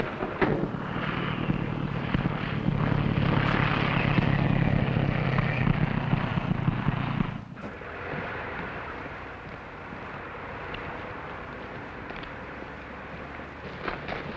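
Propeller airplane in a 1940 film flying in to land, a loud droning engine roar for about seven seconds that drops abruptly to a quieter rumble.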